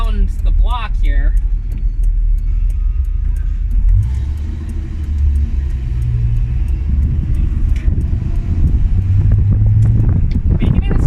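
A 1981 Ford Mustang driving around a city block, its engine a steady low rumble with road and wind noise under a person talking, plus a faint light jangle of keys.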